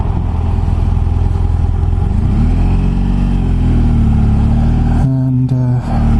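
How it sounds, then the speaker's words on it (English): An Indian Scout Bobber motorcycle on a test ride gives a loud, close engine drone whose pitch rises and steadies, with a quick gear-change dip near the end. "took it out for a test ride."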